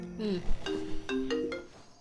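A phone ringtone plays a short melodic sequence of tones, fairly close and clear, with brief background sounds and no talk over it.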